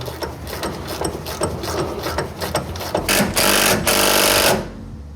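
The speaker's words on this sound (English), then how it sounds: "It's always a good part of the job where you have to finally switch the switch on the ratchet to start putting things back together." A hand ratchet tightens bolts on car suspension during an air ride to coilover swap, giving rapid close clicking strokes in a quick rhythm, followed by louder, harsher bursts of mechanical rasping near the end.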